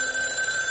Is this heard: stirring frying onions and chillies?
no